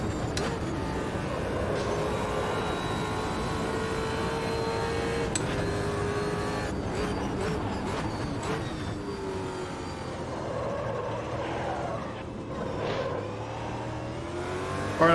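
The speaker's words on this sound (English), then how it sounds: "let you guys enjoy the sound of the car for one lap." A race car engine in the racing game Automobilista 2 roars continuously, revving up and down through gear changes with a high whining tone, loud and steady throughout.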